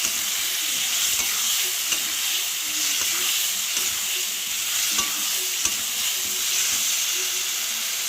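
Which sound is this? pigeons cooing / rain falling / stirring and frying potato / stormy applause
stirring and frying potato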